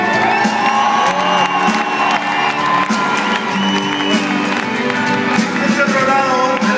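A large concert crowd cheers and applauds loudly for the keyboard player, with a sustained roar of clapping, whoops and shouting voices filling the space and no pause.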